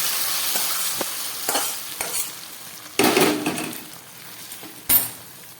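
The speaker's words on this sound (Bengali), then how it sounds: "এই ফুটন্ত খিচুড়ির মধ্যে আমি ফোড়নটাকে দিয়ে দিলাম" A hot spice tempering is poured into boiling Gobindobhog rice khichuri, giving a sharp burst of sizzling among spoon scrapes and clinks against the pot, with a second loud hiss near the end.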